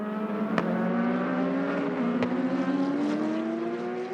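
Patrick Dempsey's class-leading 77 AM Porsche race car in the 2015 FIA WEC 6 Hours of COTA, engine droning steadily with rising pitch as it accelerates along the track, loud and continuous with brief sharp pops from gear shifts.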